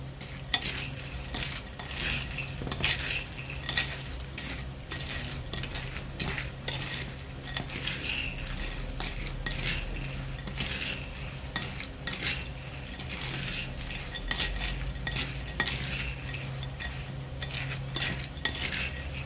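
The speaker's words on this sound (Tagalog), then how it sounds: "Kailangan halong-halo para kumalat yung nilagyan natin pampalasa." Peanuts and crisp fried garlic with salt and seasoning are stirred in a pan, a metal utensil scraping and clinking steadily throughout with a faint sizzle underneath, close and continuous.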